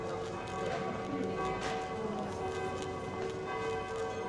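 Church tower bells in Prague ring on a narrow cobblestone street, a steady wash of overlapping metallic tones that sustains throughout at moderate distance, with faint ambient murmur around.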